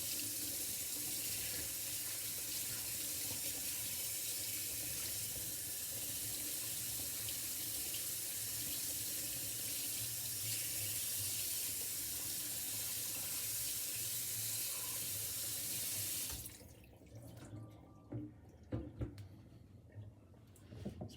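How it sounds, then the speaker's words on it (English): Tap water runs steadily into a kitchen sink while a whole raw pheasant is rinsed underneath, a continuous hiss and splash lasting about sixteen seconds before the faucet shuts off, leaving soft handling clatter. "So we got it nice and rinsed off."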